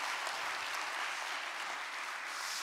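Church congregation clapping for an elder after his sermon at a Friday worship service: dense, even applause from many hands, sustained and fairly far off, with no speech over it.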